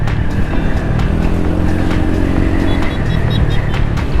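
A Yamaha XMAX 300 scooter fitted with an Akrapovic exhaust rides along a wet road in traffic, its engine droning steadily up close with a rough low rumble and rushing wind.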